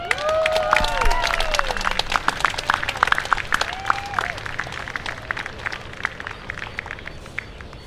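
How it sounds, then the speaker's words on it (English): Applause from a crowd at a ceremony at Iolani Palace, many hands clapping in a bright patter with scattered cheers and whistles at the start, fading gradually while the clapping continues outdoors. "Iolani Palace, please, big round of applause"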